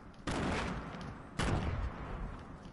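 Two loud grenade launches or explosive blasts in the Fortnite video game, each a sharp onset followed by a decaying rumble, roughly a second apart.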